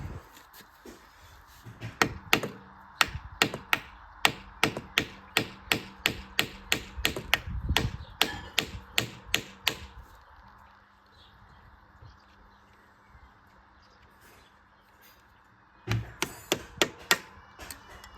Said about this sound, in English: Where's my hammer then? Hammer's right here.